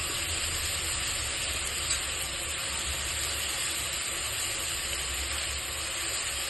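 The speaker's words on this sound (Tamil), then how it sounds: "இப்போ இது நல்லா வதங்கிட்டே இருக்கு" Vegetables sautéing in a pan for egg kurma, a steady, even sizzle and hiss close by, moderately loud and unchanging throughout with no voices over it.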